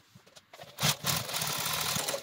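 A sewing machine stitches fabric for a scrappy paper-pieced crazy quilt, starting with a few soft taps and then running as a steady, close whir for about a second and a half.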